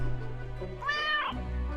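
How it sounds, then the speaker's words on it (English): A cat meows once in the video game Death and Taxes, a clear rising-and-falling mew lasting about half a second, heard over a low steady game music bed. "delighted meow at the prospect"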